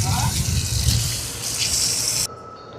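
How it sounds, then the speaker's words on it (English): A sponge is rinsed under a strong stream of running tap water while a Hampton Bay Nassau ceiling fan is being cleaned; a steady, loud gushing that abruptly drops off near the end. "I'm gonna rinse the sponge out."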